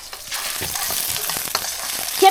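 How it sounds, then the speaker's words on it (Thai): Scrambled eggs fry and get stirred in a pan, a steady close sizzle with spatula scrapes running throughout, fairly loud, with no talk. "ทำไข่เจียวหรือไข่เละครับไข่เละครับ ไข่คนเปล่าเนี่ยครับ"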